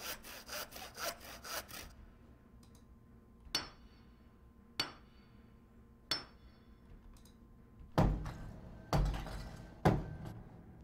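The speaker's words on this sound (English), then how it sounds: "The base layer is this grinding loop here." A layered grinding loop for a game, built from rough scraping texture, sits quietly under a handful of sharp metallic clinks and heavier knocks that punctuate it irregularly and grow denser toward the end.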